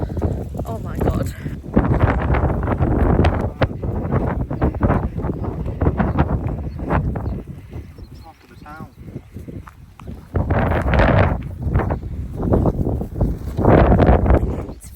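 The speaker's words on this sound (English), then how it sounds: "It's very windy." Strong gusty wind buffeting an outdoor microphone, loud rumbling bursts rising and falling, with people talking over it at times.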